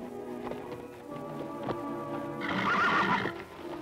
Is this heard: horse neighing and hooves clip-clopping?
yes